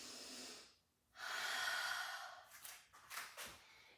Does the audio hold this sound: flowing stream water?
no